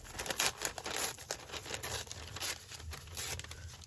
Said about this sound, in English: And then we're just going to tear down here